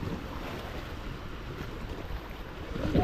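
Southwest monsoon wind blows across open sea near Burias Island, with a steady roar of wind and waves buffeting the microphone from a boat and no voices heard.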